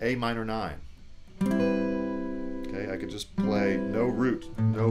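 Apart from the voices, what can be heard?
None of the usual background noises is heard.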